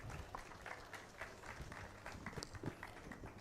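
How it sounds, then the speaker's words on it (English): An audience at an annual general meeting applauds a speaker, a faint, distant patter of clapping that runs evenly through the moment without talk. "A round of applause for him, please."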